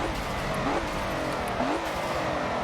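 Race car in a racing video game, engine droning with rising and falling pitch sweeps as it brakes hard and shifts, loud and continuous with no talk.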